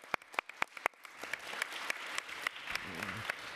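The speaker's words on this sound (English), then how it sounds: "I'm going to give you a round of applause on my own." A single person claps at a city council education committee hearing, with sharp, spaced-out claps at first and then a faster, denser run of claps over low room noise.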